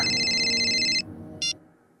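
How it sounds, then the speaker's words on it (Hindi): Telephone ringing with a bright electronic ringtone, one sustained burst lasting about a second followed by a short second chirp, close and clear in a quiet indoor room at night with no electricity. "फोन को भी इसी टाइम बजना।"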